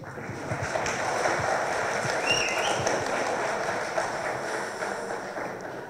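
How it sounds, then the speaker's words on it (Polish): Loud audience applause at a gala concert of a youth festival, a dense steady wash of many hands clapping that carries on evenly throughout with no voices on top. "Gromkie brawa dla Wiktorii."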